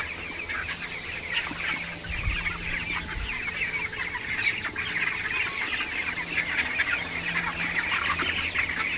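A flock of heat-stressed poultry chickens clucking and squawking continuously in a farm shed, close and busy, with overlapping calls throughout and a couple of low thumps near the start.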